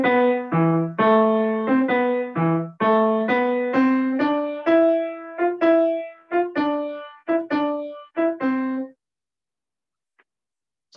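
Piano plays a melody of detached, clearly articulated notes, each struck separately with short gaps rather than legato, in an even rhythm for about nine seconds before fading to silence.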